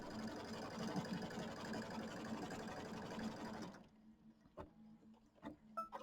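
A sewing machine quilts around a small mini quilt block, whirring in a steady, fast run for a few seconds before stopping, followed by faint clicks and handling noises; close and fairly quiet, with no talking.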